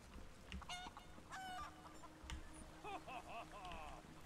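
Chicken clucking in the ESO video game, a run of short repeated clucks and squawks at moderate distance over a quiet ambient background, with no speech.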